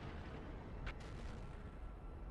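Constant heavy low rumble of tank cannon booms in a video game, including shots from a Tiger P, with one brief sharper burst near the start, sounding like distant cannon fire amid a continuous roar.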